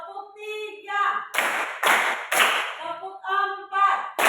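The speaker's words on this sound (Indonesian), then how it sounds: "Tepuk 1, tepuk 2, tepuk 3," A class claps in rhythm indoors, several sharp group claps in a steady pattern between stretches of a voice calling out the counts, fairly close and lively.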